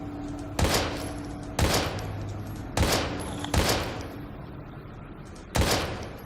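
Five sharp gunshots fired at uneven intervals in the survival horror game Daymare: 1998, each a loud broadband crack with a short decaying tail over a low ambient hum.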